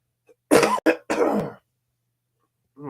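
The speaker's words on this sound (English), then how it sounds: "getting rid of this cough" A few sharp, throaty coughs close to the mic, three quick bursts in a row, followed by silence and then the start of a voice.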